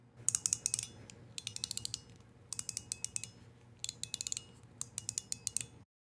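Leather-and-wood Mahjong 2 fidget toy with balls inside, producing rapid bursts of bright metallic pinging clicks in several quick groups with short pauses between, close and clear over a faint low background hum.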